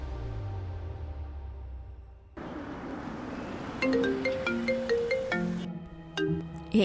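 An incoming video call sets a phone ringtone chiming, a repeating melodic pattern of bright tones that follows a short stretch of background noise and ends abruptly.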